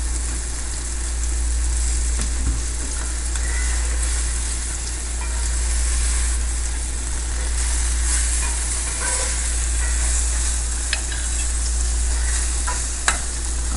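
Liver with onions and marsala fries in a pan, giving a steady, close hiss and sizzle with a low hum beneath and occasional soft clinks, all continuous and without talk.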